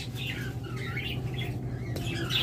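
A split ino pair of pet parakeets squawks in short, harsh bursts at close range over a steady low hum.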